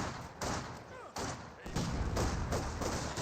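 A landmine detonation in Company of Heroes 2, heard among several dull booms and thuds with distant battlefield gunfire, a muffled rumbling wash of blasts across the few seconds.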